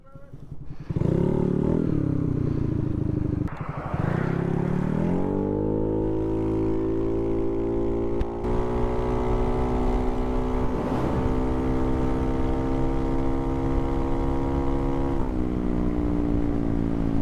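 A Honda Navi motorcycle with a big bore kit is ridden on its first outing, its engine droning loudly and steadily, climbing in pitch as it accelerates through the gears and holding a close, continuous buzz.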